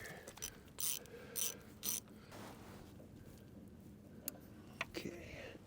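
An 18 mm grease bolt being worked loose with a wrench on machinery, several distinct ratcheting clicks in short bursts, then scattered faint ticks and metallic taps, close up, with no talking.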